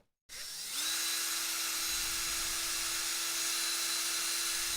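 Close, loud, steady whine of a small power drill boring through the plastic shell of a Sega Dreamcast console for an HDMI mod, starting after a brief silence and running continuously to the end.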